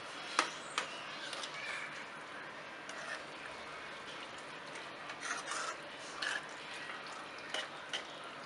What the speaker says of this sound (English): We will mix the macaroni thoroughly so that the white sauce can seep into its